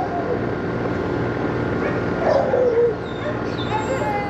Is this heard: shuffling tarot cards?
no